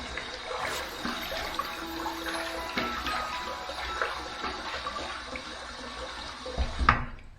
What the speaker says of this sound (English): Okay, let's wet the face.